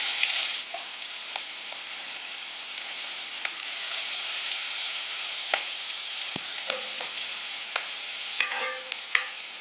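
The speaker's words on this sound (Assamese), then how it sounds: "পিঁয়াজখিনি ভাজি লওঁ দেই" Onions fry in a pan for masoor dal pitika, a steady close sizzle throughout with scattered sharp ticks and clinks from stirring and no voices.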